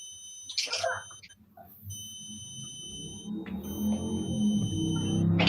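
A ghost hunting meter sounds a steady, high electronic alarm tone that holds on through a dark room, cutting off briefly and resuming, while people talk and murmur beneath it.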